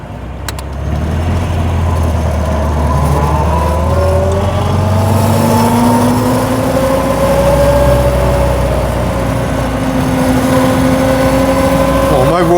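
A 1932 Austin Heavy 12/4 Windsor car engine pulls steadily in second gear, loud and close, its drone rising in pitch as it accelerates, with people talking over it.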